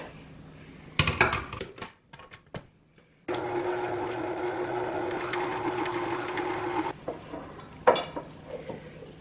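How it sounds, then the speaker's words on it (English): An electric mixer stirs chopped pecans into cookie dough, with a few short bursts and clatters first, then a sustained whirring run of several seconds, stopping before one final brief burst. "we're going to mix one more time until those are thoroughly incorporated"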